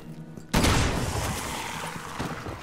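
A single loud shotgun blast in Resident Evil 6 erupts sharply after a quiet start, its broad roar decaying slowly with a long reverberant tail and small rattles of follow-on noise.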